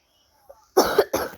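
Two sharp coughs in quick succession, close and fairly loud, following a faint throat sound, with silence around them.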